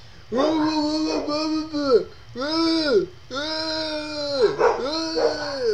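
Dogs howl and yip in drawn-out, wavering cries, several rising and falling calls in a row, close and loud.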